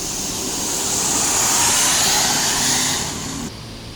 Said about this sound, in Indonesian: bus Kalingga Jaya akan segera melanjutkan perjalanan